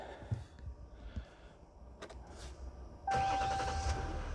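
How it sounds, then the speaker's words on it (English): A Jeep or Ram truck's engine cranks and catches about three seconds in, rising into a loud steady idle after quieter cabin rustles and a few clicks with the door left open. "Start up the engine,"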